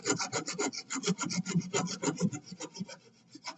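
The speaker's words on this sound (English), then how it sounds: "So we use a rough file." A coarse file rasps steadily across wood in quick back-and-forth strokes, a rough, scratchy rhythm heard up close with no talking.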